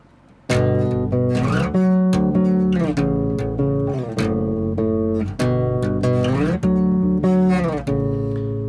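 Bass guitar plays chords for the bridge of a song, repeated plucked chords with a steady driving rhythm, sounding loud and close with no talking.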